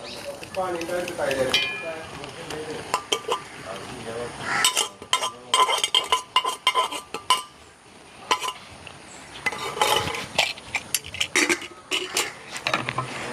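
A metal utensil scrapes and clinks against a pot while stirring cooked lentils into jaggery syrup for payasam, irregular stirring clatter, close by, with a voice speaking briefly at the start.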